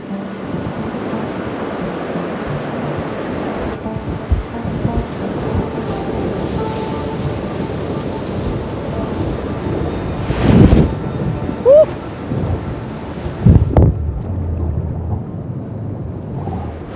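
Waves rolling through a surf wave pool rigged with a rail, a steady wash of surf under gusty wind noise on the microphone, with a few louder splashes and knocks toward the end.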